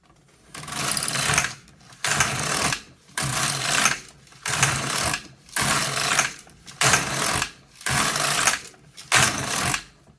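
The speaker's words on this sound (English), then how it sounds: "this will be the last thing I knit on this machine" A knitting machine carriage knitting rows runs back and forth in about seven rhythmic, whooshing mechanical passes of roughly a second each, separated by short pauses, loud and close, with no speech.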